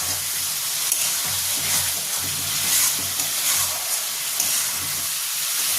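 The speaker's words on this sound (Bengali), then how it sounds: "এবার আমি ভালো করে একটু মিশিয়ে নেব।" Prawn biryani masala with fried onions is stirred in a hot pan, giving a steady close sizzle and hiss with soft scraping strokes and no talk.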